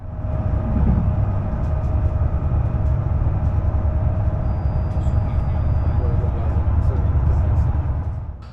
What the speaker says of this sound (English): perhaps they are a bit louder than what I would expect for such a new electric train